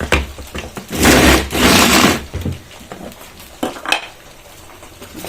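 Spiced mixture of pepper, cumin, coriander and a little chili being beaten in a bowl, with two long bursts of vigorous scraping and clattering, then softer scattered taps and knocks close by.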